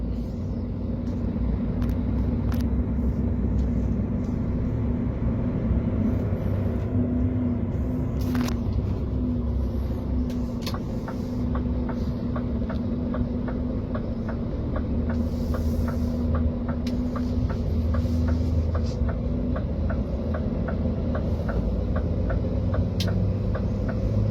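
A used Scania P360 6x2 truck pulls away in fourth gear, a steady low engine rumble with faint regular ticking, continuous and moderately close for the whole stretch.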